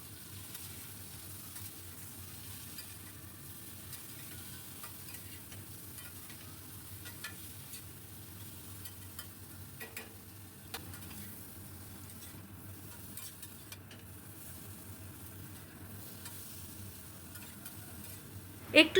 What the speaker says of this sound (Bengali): একটু সময় ধরে বেগুনগুলোকে একটু কড়া করে ভেজে নেব।